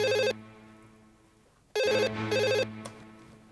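Electronic telephone ringtone in a Hindi TV crime drama, one warbling ring burst, a pause, then two more bursts in quick succession, clear and alone.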